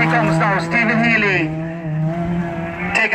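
A hot rod race car at an East Cork oval race roars past close by, its engine pitch rising and then falling with a brief tire squeal, while a commentator talks over it.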